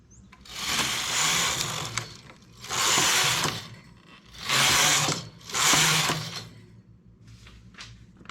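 A knitting machine works plain rows of a one-piece baby garment, its carriage sweeping across in four rough, whirring passes about a second long each, separated by short quiet pauses, with no talk.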